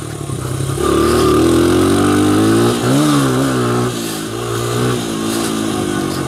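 A 2001 Honda XR100R motorcycle engine revs hard and holds at high pitch without a gear change, the tone rising and wavering, then settling into a steady loud drone, close to the microphone.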